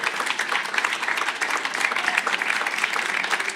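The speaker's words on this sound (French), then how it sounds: "On peut vraiment les applaudir bien fort." Dense, steady applause from an audience filling a hall at an industrial innovation event in Bourgogne-Franche-Comté, loud and continuous with no talk over it.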